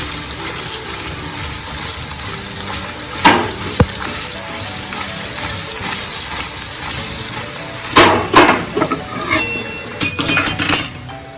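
Sweet-and-sour Ahmedabad-style ras patra, colocasia leaf rolls in gravy, is stirred in a pan with the gas off. A soft bubbling bed is broken by a few loud scrapes and clinks of the spatula against the pan.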